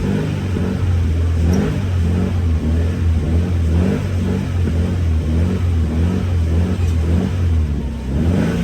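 A car engine is revved between about 2,000 and 3,500 rpm during a battery test, giving a loud, steady, close droning hum with a few small surges and no talking.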